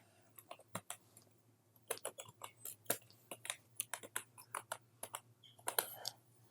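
Rapid, uneven clicking of keys on a computer keyboard as text is typed, crisp and close, with short pauses between bursts and no talking.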